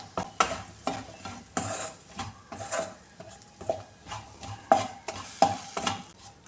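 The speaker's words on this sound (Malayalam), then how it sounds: "പൊടി ഇതിലിട്ട് നന്നായിട്ടൊന്ന് ചൂടാക്കി എടുക്കാമേ." Spice powder being heated and stirred in a pan for a tomato curry, with repeated scraping stir strokes and sharp clinks against the pan over a faint steady sizzle; no talking.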